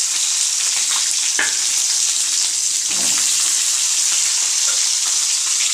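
Curry leaves, garlic and shallots sautéing in a pan, giving a steady loud sizzle and crackle with a few soft stirring knocks, and no talk.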